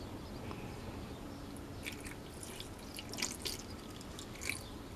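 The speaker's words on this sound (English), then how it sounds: "I'm gonna add a little bit more water" Water is added to a boggy terrarium, making faint trickles and small splashes in a brief cluster of soft drips with no talking.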